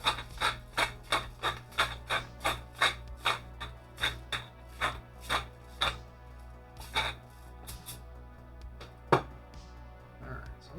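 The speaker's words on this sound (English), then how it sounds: "One last grind of pepper." A pepper grinder cranked over a steak dinner being prepped for sous vide NY strip, giving about fifteen regular raspy grinding bursts, close and fairly quiet, followed by a couple of scattered clicks.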